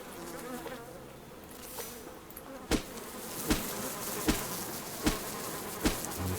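Bees buzzing around a beehive in a video game, a steady insect drone that runs throughout, joined by a series of sharp regular clicks near the end, with no talk.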